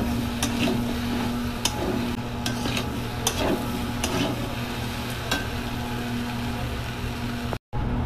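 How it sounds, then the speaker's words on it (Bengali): Soybean chunks and potatoes stir-fried together in a pan, a steady low sizzle under repeated scraping and clacking of a spoon against the pan, ending with a brief cut to silence. "সয়াবিনটা দিয়ে ভালো করে একসাথে কষবো আলুর সাথে।"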